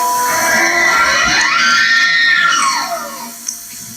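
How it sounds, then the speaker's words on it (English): A male elk screams: a loud, high whistling cry that glides upward, holds, then slides back down over about two seconds, heard alone and fading out at the end. "I found out that this is possibly the scream of a male elk."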